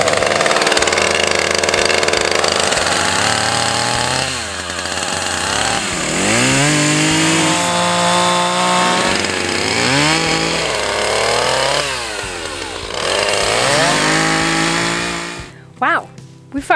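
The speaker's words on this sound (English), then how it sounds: "we fired up that chainsaw more this week than we have in the last like 6 months." Chainsaw running while clearing wood, loud and close, its pitch rising and falling repeatedly as the throttle revs and bogs into cuts, cutting off abruptly near the end.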